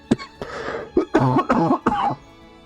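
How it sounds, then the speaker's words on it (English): A person coughing while sick, a string of several harsh, close coughs and throat-clearing bursts in quick succession. "Oh man, I really thought the cough was gone now"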